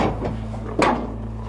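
The bottom door of an animal crate is shut with a single knocking clunk of a hinged panel, heard close over a loud, constant low engine-like hum.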